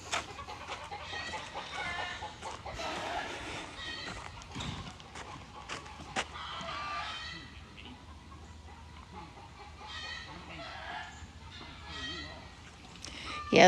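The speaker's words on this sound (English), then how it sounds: "those chickens, they're squawking" Chickens squawking and clucking on a farm, a steady busy background of bird calls with occasional louder bursts, mixed with outdoor ambience and faint voices.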